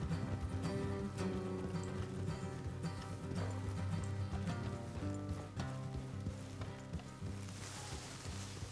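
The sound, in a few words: horses trotting in Red Dead Redemption 2 video game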